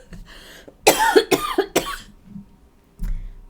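Several loud, sharp coughs in quick succession from someone nearby, followed by a pause and one more shorter cough.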